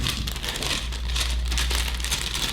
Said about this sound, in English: let's just pull them out of the plastic bag